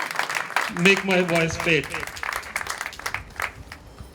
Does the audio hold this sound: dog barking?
no